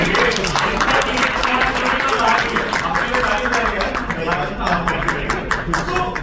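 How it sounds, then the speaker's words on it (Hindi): An audience at a sales training session claps in dense, fast applause that keeps going throughout and thins slightly toward the end. A voice can be heard speaking over the clapping. "एक बार ताली बजा दो दोनों के लिए।"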